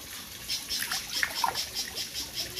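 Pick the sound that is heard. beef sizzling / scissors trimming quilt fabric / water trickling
water trickling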